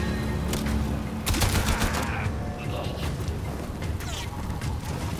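Rapid gunfire in Warframe on PlayStation 4 Pro, a dense burst of shots over a busy game mix, with brief voice in the background.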